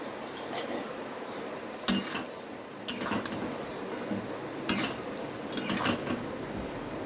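A metal lid and pan clink and clatter in several sharp, close knocks spread through the clip while pointed gourd simmers with a little salt and water on medium heat. A low kitchen background hum sits underneath, and no one speaks.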